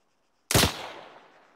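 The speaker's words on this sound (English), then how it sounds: "he was shooting" A single sharp gunshot in ArmA 3 cracks out loudly after a brief silence, then a short echoing tail decays over about a second.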